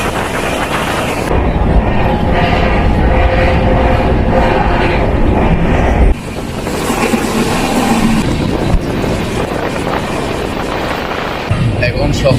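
A long-distance train between New Delhi and Chennai rumbles steadily from inside the coach, a dense continuous low roar with a sudden shift in tone partway through and indistinct voices underneath.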